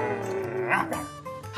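Husky dog giving a short, fairly soft bark and yip sequence indoors, brief bursts over a quiet background with no speech.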